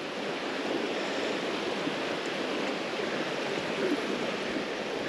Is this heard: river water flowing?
yes